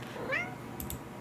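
A cat meows once in a horror video game, a short rising and falling cry close up, followed by a couple of faint high clicks, with no talk over it.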